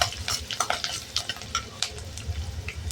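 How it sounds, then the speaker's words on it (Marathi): Green chilies frying in hot oil in a pan for poha chivda, a steady sizzle broken by repeated sharp stirring scrapes, close and moderately loud, with no talking. "मिरची घालायची, मिरची छान परतवायची, तळून घ्यायची चांगली."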